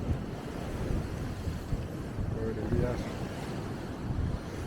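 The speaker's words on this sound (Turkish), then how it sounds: "Sular bayağı böyle kıyıya kadar vuruyor ya. Bugün bayağı dalgalı burası." Rough waves hitting a Thai shoreline on a choppy day, a continuous low rumbling surge with heavy wind noise on the microphone, while a person talks over it.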